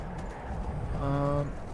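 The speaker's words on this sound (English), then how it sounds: "Whoa, Meaty's horse" Rhythmic clip-clop of horse hooves in Skyrim under game noise, with a short tonal sound swelling briefly near the end.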